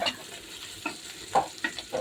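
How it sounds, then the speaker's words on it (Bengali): Chili and onion frying in a pan while being stirred, with a steady low sizzle broken by several sharp scraping strokes of the spoon at irregular intervals. "এখন মরিচ পেঁয়াজ ভালো করে বাদামি করে"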